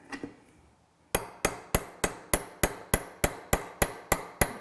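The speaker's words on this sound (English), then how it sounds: "Let's give it little taps." Twelve evenly spaced, sharp metallic hammer taps drive an old bolt into a clutch weight bushing to push out its pin, each strike crisp and close with a short ringing decay, following a brief faint scrape.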